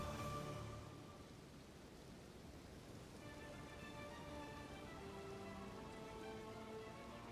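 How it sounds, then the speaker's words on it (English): Steady rain falls outdoors in the early morning, a dense even patter on surfaces that continues throughout at moderate level, with faint tonal background sounds and no talking. "I want the rain to stop."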